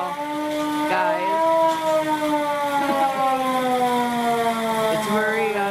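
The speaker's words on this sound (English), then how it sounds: "That's the siren." A loud wailing fire truck siren rising and falling in long sweeping tones, continuous and close, with harmonics layered over each other.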